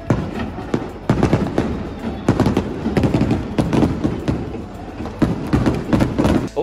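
Fireworks go off at a professional football match, a rapid, dense barrage of loud booming bangs and crackling thuds. The bursts follow one another almost continuously for several seconds.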